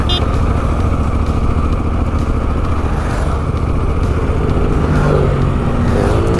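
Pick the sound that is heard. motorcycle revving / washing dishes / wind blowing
motorcycle revving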